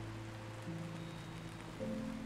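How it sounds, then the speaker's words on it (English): Steady soft rain falls in the video game Until Then, a continuous wash of patter with faint low music tones underneath and no voices. "Yeah, it's rain. Duh. The raindrops."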